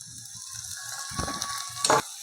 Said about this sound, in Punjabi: ਹੁਣ ਪਾ ਦਾਂਗੇ ਤਿੰਨ ਪਿਆਜ਼ ਬਰੀਕ ਕੱਟੇ ਹੋਏ